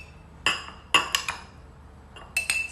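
Avocado spooned into a glass mason jar during meal prep, heard as three or four sharp clinks of a spoon against glass, close and fairly faint, separated by short pauses with no talking.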